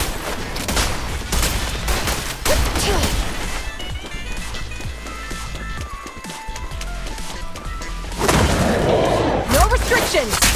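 Dense, sustained gunfire in the Zenless Zone Zero video game, rapid overlapping shots with crashes and impacts filling the scene loudly, with voices briefly under the barrage.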